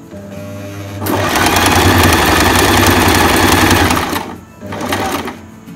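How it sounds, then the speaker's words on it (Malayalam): A domestic sewing machine stitching, running as a steady loud whirring hum for about three seconds, stopping, then starting again briefly, close by with no talk over it. "ഇനി നമുക്ക് സ്റ്റിച്ച് ചെയ്യാം"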